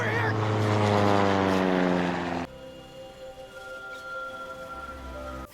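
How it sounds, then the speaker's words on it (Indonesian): A small propeller plane drones loudly nearby, its pitch dropping sharply as it passes, then fades to a fainter hum. "mendengar suara pesawat kecil yang melintas di dekat pulau itu"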